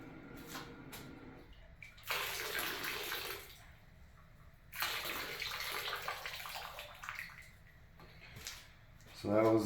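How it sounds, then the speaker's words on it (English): Water pours into a gold panning tub in two steady rushing bursts of a second or more each, with quieter splashing and sloshing between them and a brief louder splash at the end. "Fill up my panic tub a little bit."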